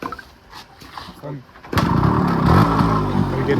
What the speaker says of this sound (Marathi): आता चाललो आम्ही समोर गाडीला किक मारून घरी